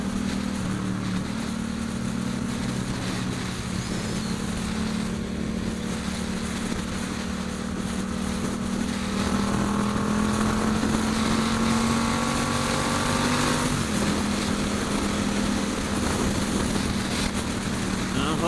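Suzuki SRAD 750 motorcycle exhaust heard while riding on the road, a continuous engine drone with rising and falling pitch, steady and close, with wind noise and some talk over it.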